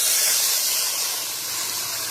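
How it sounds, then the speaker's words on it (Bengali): A loud, steady steaming hiss as a little water is poured into a very hot pan of sautéed curry, fading only slightly over its length and heard alone. "এবারে আমি জল ঢেলে দেবো। অল্প করে জল দিচ্ছি।"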